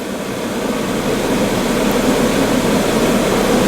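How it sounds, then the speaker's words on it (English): A Toyota Corolla's cabin air blower runs on high, a loud, steady, close whoosh of rushing air with a low droning hum that holds unchanged throughout, and no talk. "you can hear the blower blowing. There's nothing happening, and I've got the blower on high."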